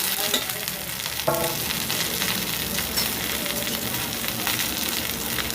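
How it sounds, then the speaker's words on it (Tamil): Thuthuvalai leaves frying in sesame oil with onion, a constant close sizzle broken by a few spatula stirs and scrapes against the pan. "எடுத்து வச்சுருக்கிற தூதுவளை கீரை அதையும் எண்ணெயில் போட்டு நம்ம நல்லா வதக்கிக்கலாம்"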